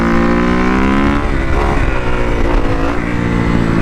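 A motorcycle accelerating hard in fifth gear without the clutch as it lifts into a power wheelie, a loud, steady engine roar with rising pitch held throughout, close by.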